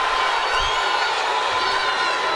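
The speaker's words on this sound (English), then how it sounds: "The crowd is eating it up." A boxing arena crowd roars in a steady, loud wash of cheering during a Crawford fight, dense and continuous with no distinct voices standing out.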